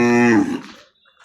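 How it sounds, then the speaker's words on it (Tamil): A single close cow moo at a busy cattle market, a deep harmonic call lasting under a second before fading out. "அங்கேயும் பசு மாடுகள்."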